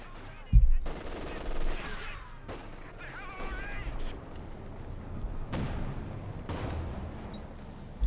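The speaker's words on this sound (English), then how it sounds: "Elpern with the Katyusha rocket launcher" A Katyusha rocket launcher barrage in Company of Heroes 2 lands amid battlefield gunfire, a run of sharp blasts and crackling volleys at moderate loudness, with a caster's voice talking underneath.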